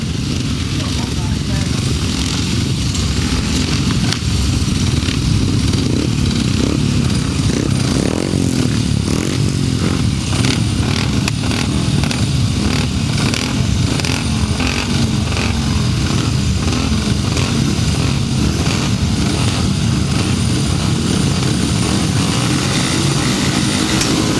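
Grasstrack motorcycles race at the 2006 British Under-21 championship, their engines roaring loud and continuous throughout with steady revving and dirt scrape, and a commentator's voice faintly mixed underneath.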